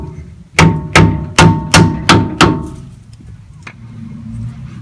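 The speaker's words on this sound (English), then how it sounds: "Take a rubber mallet. Go ahead and whack the differential a couple times." Six evenly spaced, heavy thuds ring out as a rubber mallet whacks a car's 8.25 rear differential, each blow loud and close with a short resonant decay, then a low background hum.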